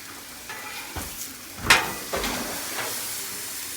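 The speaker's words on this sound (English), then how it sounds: "right now the steak smells great. It's cooking, and we're gonna sear both sides" Steak searing on a Blackstone griddle at 375 degrees, a steady close sizzle with a few louder crackling bursts and scraping stirs partway through, no voices.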